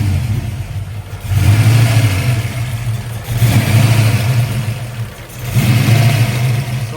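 An engine runs again after a restart following long disuse, with about 75 psi of oil pressure. It revs up and settles back three times in a steady rhythm, loud and close, with no talking.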